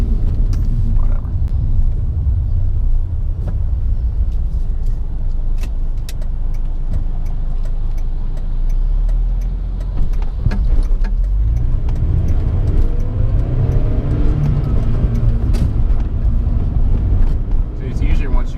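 A VW Bug with a manual gearbox drives along, its engine a steady low rumble with wind noise, and the engine note dips and picks up again partway through as it shifts; a person talks over it.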